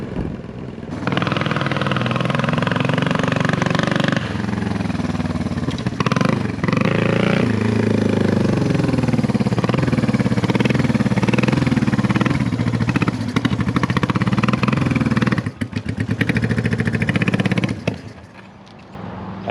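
A motorcycle engine runs steadily close by after a ride, loud and continuous with a slightly uneven beat, as if missing on the left cylinder, then cuts off near the end.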